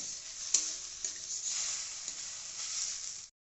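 Washed Gobindobhog rice frying in ghee in a pan, giving a steady bright sizzle with a few soft stirring scrapes, close and continuous before cutting off near the end.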